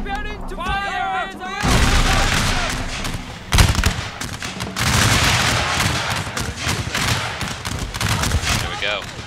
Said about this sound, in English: Second rank preparing to fire!